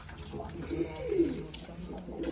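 Soft, low cooing of racing (high-flying) pigeons, a few rolling coos close by over a faint background hum.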